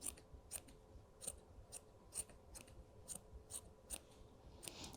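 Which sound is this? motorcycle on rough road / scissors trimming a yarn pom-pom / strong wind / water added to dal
scissors trimming a yarn pom-pom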